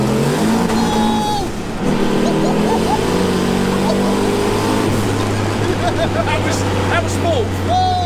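A 1300 bhp turbocharged LS-swapped Nissan 280Z accelerates hard with loud engine roar and rising harmonics, close and continuous, while excited voices talk and shout over it.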